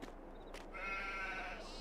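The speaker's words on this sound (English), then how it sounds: "look at our sheep" Sheep in Farming Simulator 22 give a single clear bleat lasting about a second, moderately loud over a faint steady background hum, with a brief click beforehand.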